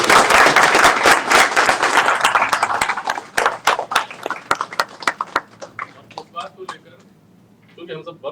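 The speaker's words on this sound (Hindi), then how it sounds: "तालियां बजाते हैं" Audience clapping at a gathering of a news channel's team, dense applause at first that thins into scattered individual claps and fades out, with some talk beneath.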